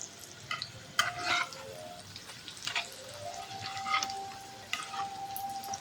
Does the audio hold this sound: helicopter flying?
no